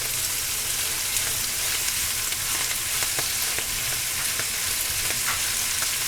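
Bok choy stir-fries in a hot pan with a dense, continuous sizzle and crackle, punctuated by faint ticks of stirring, close and loud throughout.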